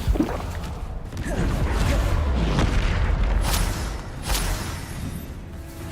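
Bombarda spell explosions in Hogwarts Legacy combat, heavy booming blasts with rumbling low-end and whooshing bursts, loud and close, a spoken voice faintly under the game sounds.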